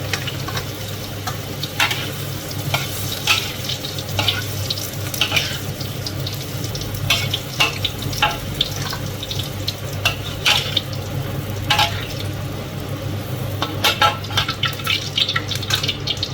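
Food fries in a pan with a steady, close sizzle as it is stirred, with frequent small clicks and scrapes running through the continuous crackle.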